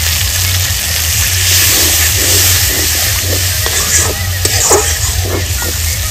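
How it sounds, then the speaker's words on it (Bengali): Water poured into fried, sizzling spice paste for a village fish curry sends up a loud, continuous hiss and sizzle with a few stirring knocks, over a steady low hum. "মশলাটা কষিয়ে নিয়েছি, এবার দিয়ে দেবো পরিমাণ মতো জল।"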